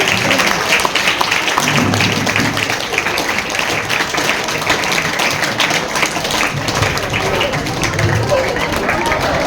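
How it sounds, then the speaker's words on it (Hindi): Students clap steadily for their teachers at a Teachers' Day event in an Anglo Urdu high school in Sangamner, dense continuous applause filling the room with crowd noise and voices over it. "Clap everyone."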